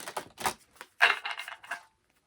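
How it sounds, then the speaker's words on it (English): A deck of tarot cards being shuffled close by: several quick, papery riffling bursts with short gaps between them, ending in quiet. "Just going to give your cards a shuffle."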